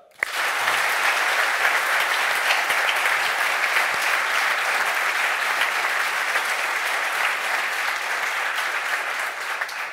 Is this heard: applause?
yes